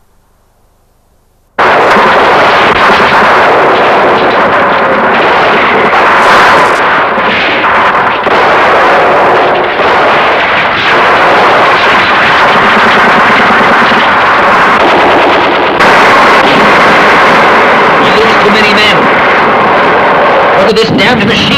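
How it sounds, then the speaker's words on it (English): Artillery and gunfire from a 1964 war film set at Çanakkale (Gallipoli) roar continuously and loudly for about twenty seconds after a brief quiet start, dense bursts and booms layered together with voices heard amid the battle. "This damned machine gun."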